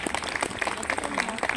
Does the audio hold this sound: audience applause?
yes